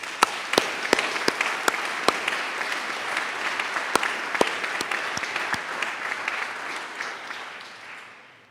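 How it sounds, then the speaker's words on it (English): A graduation ceremony audience at Leysin American School applauds the parents, sustained dense clapping with sharp individual claps standing out, fading slightly at the end. "Let us give a huge round of applause and appreciation to what they've done to your parents."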